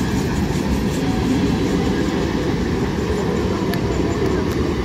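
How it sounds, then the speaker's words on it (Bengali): An up local train running along the main line toward Bandel Junction, a steady loud rumble of wheels and carriages that holds throughout without pause, close by. "আপ লোকাল ট্রেনটি মেইন লাইন দিয়ে ব্যান্ডেল রেলওয়ে জংশন অভিমুখে যাচ্ছে।"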